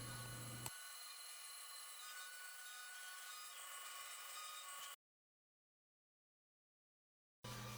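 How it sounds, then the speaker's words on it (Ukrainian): A band saw cuts through wood with a steady, harsh whir, then stops abruptly into silence before starting up again. "Прямий пропил зробив на стрічкопильному верстаті."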